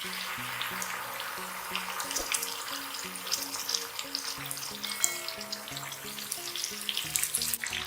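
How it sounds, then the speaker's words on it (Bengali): Hilsa fish pieces fry in hot oil with lightly fried onions, giving a continuous crackling sizzle close by, with no talk over it. "ইলিশ মাছগুলোকে আমি হালকা একটু ভেজে নিব, খুব বেশি আমি এটাকে ভাজবো না"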